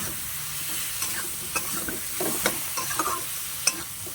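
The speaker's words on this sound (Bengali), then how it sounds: "এবার আমি এটাকে ভালো করে নাড়াচাড়া দিয়ে ভালো করে ভেজে নিলাম।" Cabbage and shrimp frying in a pan: a steady sizzle and hiss under repeated scraping and clattering strokes of a spatula stirring the food, fairly close and without speech.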